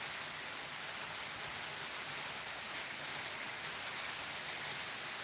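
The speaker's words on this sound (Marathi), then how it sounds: "खूप पाऊस आहे" Heavy rain falls steadily and evenly throughout, a dense continuous hiss of drops on surfaces with no pauses and no voices.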